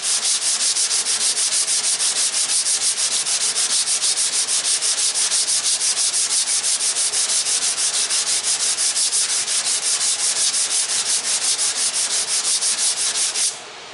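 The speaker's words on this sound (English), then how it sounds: "Now I'm just going to take my 150. Go over it, get a bunch of these 80 sand scratches out" Steady rhythmic rasp of 150-grit sandpaper worked back and forth over body filler on a 1965 Ford Galaxie, close and constant before stopping abruptly at the end.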